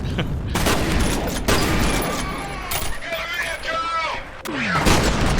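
Rapid bursts of gunfire in the game F.E.A.R.: Extraction Point crackle over dense game noise, with a heavy blast from a shot gas tank and scattered metallic clinks mixed in.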